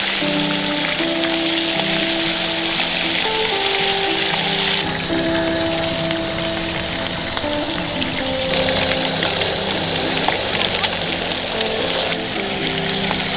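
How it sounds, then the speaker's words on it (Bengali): Hilsa fish pieces lightly frying in oil during outdoor cooking in a garden, a steady, close sizzle and soft crackle running continuously without any talk. "ভাজা যাবে না, হালকা অল্প ভেজে নিতে হবে।"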